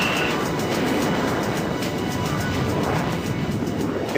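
A Eurofighter Typhoon jet takes off in the FS2004 flight simulator game, a steady, loud broadband engine roar that holds constant throughout with a faint high whine on top.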